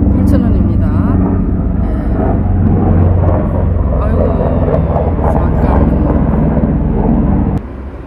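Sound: airplane flying overhead near a stadium

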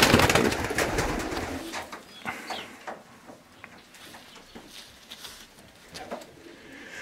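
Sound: racing pigeons cooing

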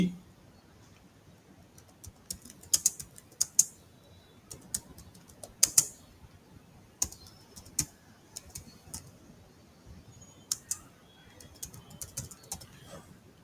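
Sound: typing a motto on a computer keyboard

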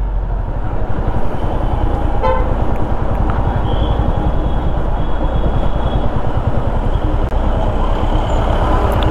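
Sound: train running alongside the road

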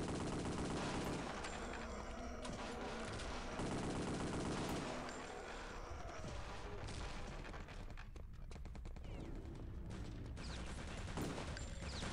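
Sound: gunfire in Return to Castle Wolfenstein video game

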